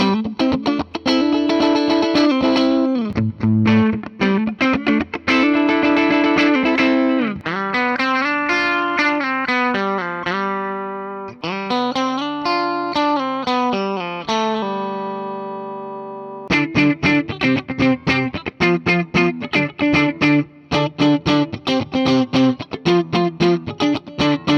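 A Gibson Les Paul Supreme electric guitar, played through its coil taps, rings out in strummed chords and picked single notes with a thin, bright tone, loud and close with no voices.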